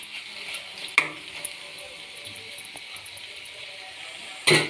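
Curry fries in oil in a pan, a soft, steady sizzle near the microphone, broken by a few sharp clinks of a stirring utensil against the pan.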